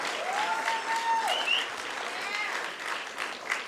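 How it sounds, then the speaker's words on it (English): Sustained audience applause at a scholarship finals gala, steady and moderately loud throughout, with faint tonal sounds drifting over the clapping. "a bigger round of applause than the one we just gave"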